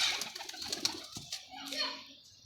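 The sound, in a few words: pigeon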